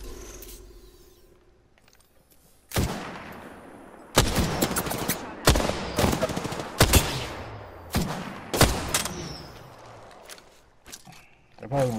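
Gunfire in a video game comes as a series of sharp, loud single shots and short bursts, spaced irregularly over a quiet background, with some distant echoing tails between shots.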